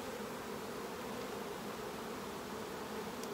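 Saskatraz honeybees at an apiary beside an open hive: a dense, even buzzing of many bees, close and constant, with no other sounds or voices.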